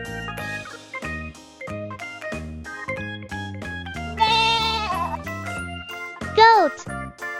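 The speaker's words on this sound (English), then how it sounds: "Sheep." A sheep bleats with a wavering, quavering cry, heard twice in short bursts near the middle and the end, over bright, bouncy children's music that plays throughout.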